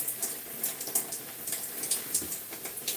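Water runs steadily as shampoo is rinsed out of hair, a soft patter and spatter with irregular splashy bursts, close by and moderately quiet.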